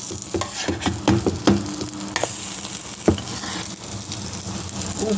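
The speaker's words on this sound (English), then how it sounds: "Let's flip them pancakes." American pancakes frying in a pan on a stove, a constant close sizzle with scraping clicks as the spatula turns them.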